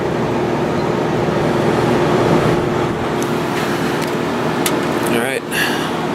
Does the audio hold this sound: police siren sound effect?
no